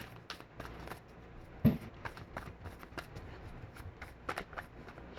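Tarot cards being shuffled by hand, soft riffling and flicking with a sharper snap partway through, quiet and close with no talk.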